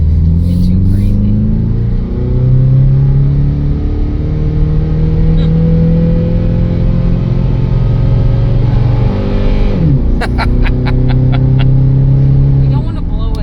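A $300 truck accelerates hard from a standstill toward 60 mph, its loud, close engine droning and climbing in pitch, briefly dropping at a gear change before rising again.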